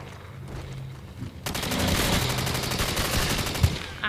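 Rapid bursts of gunfire from an older first-person shooter video game, breaking in abruptly after a quiet stretch and continuing as a dense, steady volley with a sharp thump near the end.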